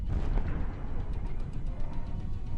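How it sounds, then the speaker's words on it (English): Explosion from a HIMARS rocket strike on a surface-to-air missile launcher: a dense, rumbling low boom with sustained roar and crackle, heard alone. "First explosion."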